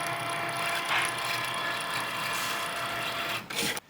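A Cricut cutting machine drags a foil tool across a card, giving a steady, close mechanical whir with fine ratcheting texture that runs unbroken and then briefly dips near the end.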